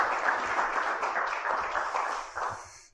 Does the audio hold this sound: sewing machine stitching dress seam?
no